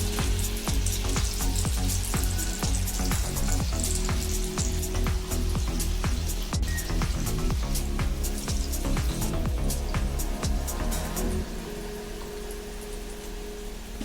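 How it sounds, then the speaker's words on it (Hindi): Potato pakoras sizzle and fry in hot oil in a kadai, a dense steady crackle with bursts of popping that holds loud and continuous throughout, easing slightly near the end. "हमने फ्राई करने के लिए तेल को गरम कर लिया है, कढ़ाई में है, देख सकते हैं। अब इसको हम फ्राई करेंगे।"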